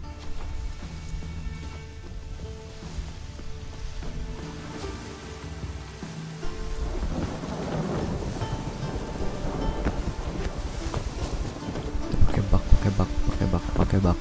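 Steady rain with rolling thunder in The Witcher 3, a continuous wash that swells louder and denser in the second half, with heavier rumbles toward the end and no voices.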